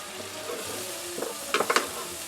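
Shrimp scampi sizzles softly in a pan as a utensil stirs it, with a few brief scraping clatters near the end, close and without talk.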